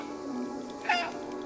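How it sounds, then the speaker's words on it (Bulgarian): A cat meows once in a cat video game, a single short in-game call standing out over steady background music. "Мога да мяукам."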